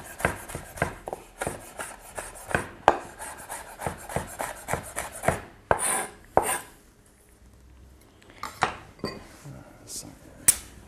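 Rapid, sharp knife taps on a cutting board come close and clear, pausing briefly before a few more scattered chops.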